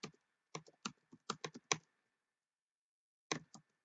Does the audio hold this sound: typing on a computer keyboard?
yes